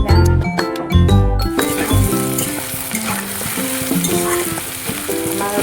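Food fries in a home kitchen pan with a steady, close sizzle and occasional faint clinks of stirring, alongside soft background music and no talking.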